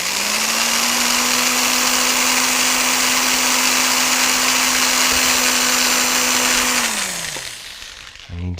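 A steady, loud electric drill motor whine, running small wobbly bits, lasts about seven seconds, then spins down and stops, followed by a brief clatter.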